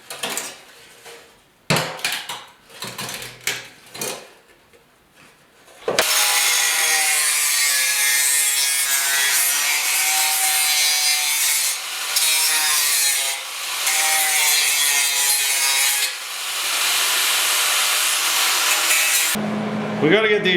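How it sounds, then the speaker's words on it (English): A tool saws and grinds rusty metal off the seat pan of a 1974 Yamaha RS100 motorcycle, a loud, steady, close rasping buzz that runs for over ten seconds with brief dips, after several sharp knocks and scrapes. "I just want to trim all the kind of the rusty stuff off"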